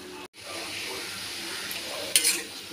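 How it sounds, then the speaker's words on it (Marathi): Vegetable sabji sizzles steadily in a pan as it fries, a continuous close hiss with faint stirring scrapes and a brief louder clatter near the end. "भाजी इथे तुम्ही बघू शकता मस्तपैकी चरचरते आहे"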